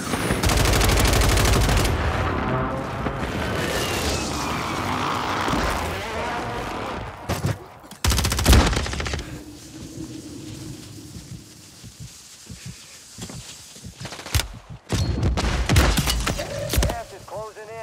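An artillery fire mission strike in Call of Duty hits with a dense barrage of booming blasts and rapid firing, then scattered impacts and thuds, while voices speak over the action.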